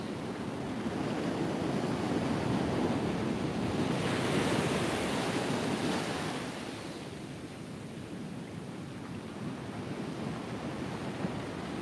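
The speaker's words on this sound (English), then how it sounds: "Just need these waves to calm down" Heavy waves surge up the shingle at Trimingham Beach on the Norfolk coast in 40 mph wind and rain, a loud continuous roaring wash that builds and then eases slightly, with wind buffeting the microphone.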